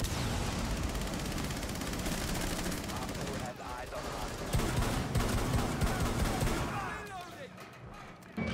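Sustained SMG bursts in Rainbow Six Siege, with dense rapid automatic fire, continuous and loud, and a few brief pauses and fluctuations in intensity across the stretch.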